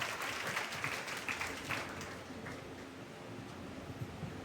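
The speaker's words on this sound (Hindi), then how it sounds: "जोरदार तालियों से एक बार स्वागत हो सर का" A crowd at a Bihar police constable selection honour ceremony applauds to welcome a guest, a dense steady wash of clapping that fades gradually toward the end.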